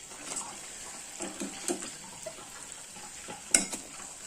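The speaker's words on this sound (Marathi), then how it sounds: "मी याच्यात अजून ही तळून घेते" Jalebi frying in oil makes a soft, low sizzle with gentle stirring and light clinks, quiet and close, with one sharper tap near the end and no talking.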